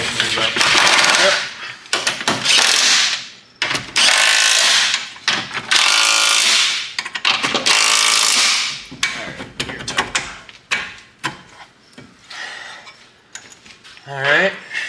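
Bolts are tightened on an Altima 600 race car with a ratchet or power tool, several loud bursts of rapid mechanical clatter separated by pauses, close up, with brief talk between bursts.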